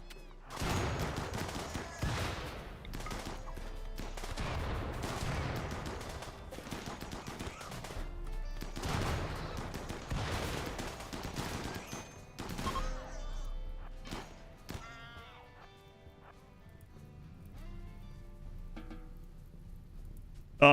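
An automated turret in the RimWorld video game fires at raiders in dense, rapid bursts that keep going for several seconds, followed by scattered single shots and clatter as the firing dies down.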